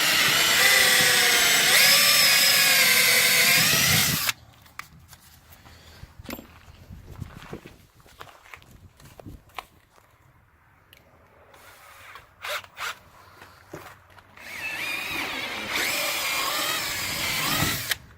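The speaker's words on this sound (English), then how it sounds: "I'm using the smaller drill bit to start just to give myself a pilot hole." A power drill whirs loudly for a few seconds drilling a pilot hole with a small bit while installing a diving board on a Bennington SX21 pontoon boat, then quiet handling noises and clicks follow before the drill spins up again near the end.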